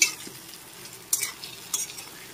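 Chilli powder and turmeric are stirred in oil in a pan for a raw-mango katla fish curry: a low sizzle under a few distinct scraping strokes of a spatula against metal, close and without voices.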